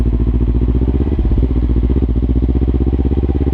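A motorcycle engine chugs in low gear while the bike creeps slowly over gravel, a loud close rhythmic putter that stays steady with no voices.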